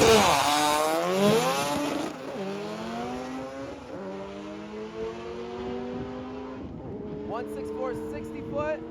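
An all-wheel-drive drag race car launching down the strip, engine screaming up through rising gear pulls with brief dips at each shift, loud and close, then fading as it pulls away, with faint voices around.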